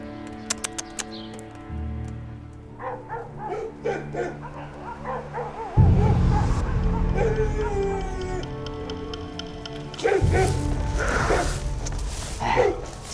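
Dogs bark repeatedly inside an imperial palace residence in a Qing-dynasty court drama, under a soft musical backdrop, with the barking growing louder and denser partway through.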